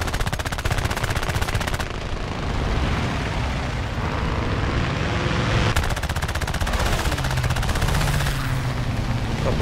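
Sustained machine gun fire from an enemy bomber's rear gunner in War Thunder air arcade, an A5M4 fighter trailing below; dense, continuous rattling bursts, loud and close, with no talk over them.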